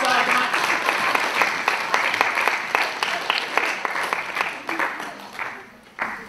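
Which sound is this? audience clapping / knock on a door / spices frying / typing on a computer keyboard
audience clapping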